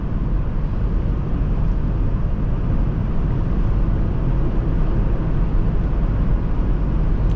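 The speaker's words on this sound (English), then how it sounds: "And just when you put your foot down, you hear that 5-cylinder whistle." Steady broadband engine and road noise from a 2001 Volvo V70 XC 2.4T with its turbocharged five-cylinder under acceleration, droning continuously and close up with no talking.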